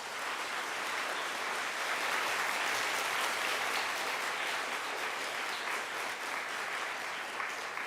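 A church congregation applauds the care home director and staff with dense, steady clapping that fills the room for the whole stretch and never lets up, with no voices over it.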